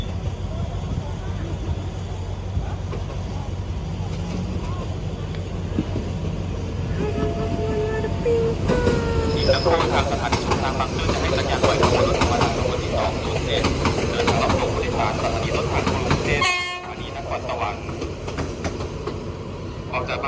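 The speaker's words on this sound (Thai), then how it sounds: "ขณะนี้ได้ปล่อยสัญญาณ ให้ขบวนรถ 207 ออกจากสถานีบางซื่อแล้วนะคะ" Train rolling through Bang Sue junction railway station in Bangkok, a steady rumble with wheel clatter and a passing horn, busy station noise throughout and a brief squeal of brakes near the end.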